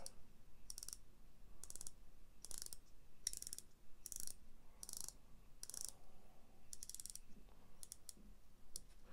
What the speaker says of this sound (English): The bezel is a 60-click bezel. I'll let you listen to it.